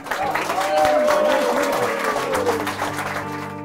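A talk-show studio audience applauds as a singer and her band are welcomed onstage, the clapping swelling under a sustained tone and then thinning as music begins.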